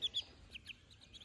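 Chinese ducklings and their ducks give faint, high, short peeps in a few quick bursts, soft and slightly distant with no talking.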